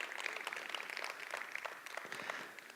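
An indoor audience at a speaker-series event applauding a sponsor, a faint, steady patter of many hands clapping for about three seconds and tapering off at the end.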